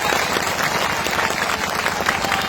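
Sustained, dense applause from a large crowd at a political speech rally, steady and loud throughout with no voices rising above the clapping.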